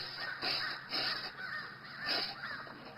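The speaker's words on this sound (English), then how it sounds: "What, the crows are after something?" Several crows caw outdoors in a steady back-and-forth, harsh calls repeating every half second or so at moderate distance, with no talk over them.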